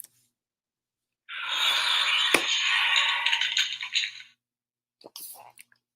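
A single egg cracks, a brief sharp snap followed by a few seconds of crumbly crackling and a faint trailing rustle, heard close and alone.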